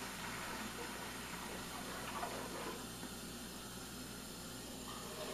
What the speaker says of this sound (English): Go ahead and add the water to the pot here.